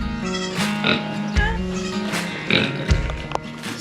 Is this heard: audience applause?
no